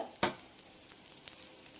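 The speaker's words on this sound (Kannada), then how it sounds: "ತೊಗರಿಬೇಳೆ, 1 ಟೀ ಸ್ಪೂನಷ್ಟು ಉದ್ದಿನಬೇಳೆ, 2 ಒಟ್ಟಿಗೆ ಹಾಕಿ ಹುರ್ಕೊಂಡ್ಬಿಡೋಣ" Toor dal and urad dal dry-roasting together in a pan for spicy potato rice, a sharp scrape as the lentils are stirred, then faint crackles and soft rustling, close and quiet.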